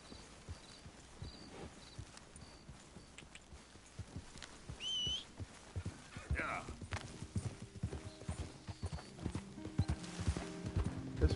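Horses move through the Red Dead Redemption 2 video game world, their hooves clip-clopping steadily with a brief whinny near the middle, all under a voice talking.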